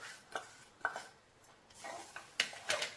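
Grated fresh coconut and powdered sugar stirred in a pan for karanji filling, with quiet scrapes and occasional metallic clinks of a spoon on the pan, irregular and fairly soft.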